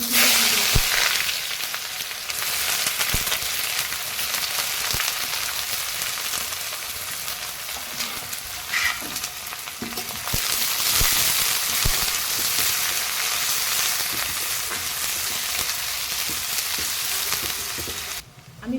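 Chopped onion fries with whole cumin and bay leaf in hot oil for a goat head curry, a loud, steady, close sizzle that runs nearly unbroken, with faint stirring clinks now and then.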